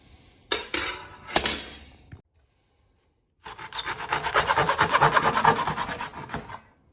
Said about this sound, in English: we're going to cut it with a hacksaw right about there